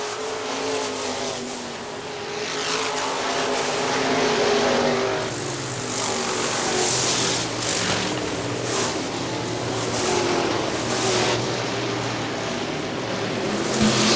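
IMCA Modified race cars roar around Hartford Speedway Park dirt oval, a continuous loud engine drone that swells and fades as cars pass, with no voices over it.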